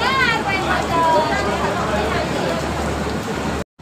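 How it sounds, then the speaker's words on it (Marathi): Rain falling at Matheran hill station during the monsoon, a steady broadband patter with some distant voices mixed in, continuous until it cuts off abruptly near the end. "त्या ठिकाणी पाऊस पडतोय"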